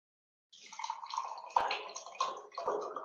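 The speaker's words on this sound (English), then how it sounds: "So I have to take some water." Water poured into a glass during a technical talk on project proposals, a steady splashing trickle with a few brief clinks, fairly close and alone with no speech.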